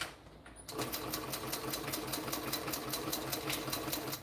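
A sewing machine runs steadily, stitching a decorative second layer over fabric, its rapid even needle rhythm starting after a brief quiet moment and continuing close and clear with no talk.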